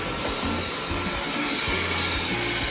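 A Wyze robot vacuum cleaner running over carpet, its loud constant motor whine and airflow hiss joined by short repeated low brushing pulses as it moves.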